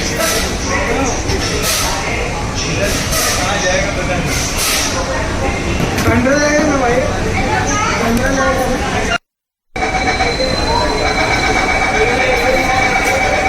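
Inside a Mumbai underground metro train running from BKC toward JVLR on its opening day: a steady rumbling roll with squealing wheel tones, while passengers chatter throughout and a brief dropout breaks the sound.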